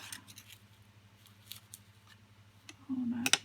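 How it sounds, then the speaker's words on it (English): Scissors snip through paper while a handmade shabby chic card is assembled, giving a few short close cuts with a brief hum of voice toward the end. "A snip."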